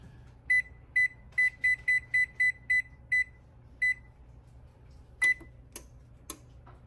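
A kitchen oven being set to preheat to 300 degrees gives a run of about a dozen short, evenly spaced electronic beeps, followed by three louder, sharper beeps, all clear over a low background hum.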